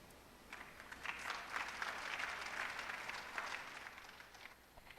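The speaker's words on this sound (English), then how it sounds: "a louder round of applause." Audience at a career fair applauds, a soft, distant patter of many hands that swells in the middle and tapers away toward the end.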